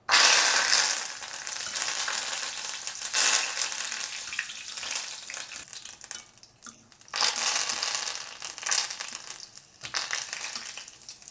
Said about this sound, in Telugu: ఇప్పుడు ఇందులో ఒక 2 రెబ్బలు కరివేపాకు కూడా వేసుకొని ఇది కూడా ఫ్రై చేసుకోవాలి